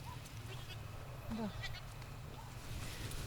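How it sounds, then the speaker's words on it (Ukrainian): A goat bleats briefly in the distance in a rural garden over a steady low rumble of background noise, with faint other animal sounds around it. "Я і мої кози."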